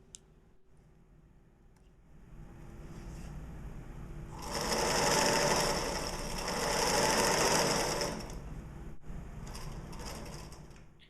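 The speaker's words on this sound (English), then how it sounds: "sew a line of stitching around the" A sewing machine stitches a rolled hem around the opening of a fabric stuff sack, humming quietly and then running in two loud sustained bursts of rapid stitching before it settles back to a softer whir.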